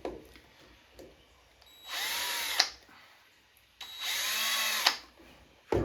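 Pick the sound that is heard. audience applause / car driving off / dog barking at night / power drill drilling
power drill drilling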